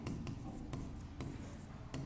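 Pen writing on paper, close and quiet, with soft scratchy strokes broken by several crisp ticks as the pen taps down, no talking.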